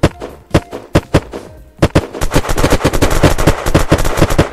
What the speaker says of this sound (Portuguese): Vou pegar ele na metralhadora.